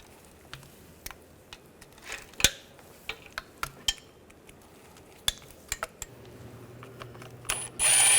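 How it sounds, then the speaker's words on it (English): A socket ratchet loosening transmission pan bolts on a 2009–2010 BMW 535i xDrive, with sparse metallic clicks and clinks scattered irregularly, close by, ending in a louder mechanical burst. "Using a T40 socket, we're going to take all the bolts out around the pan"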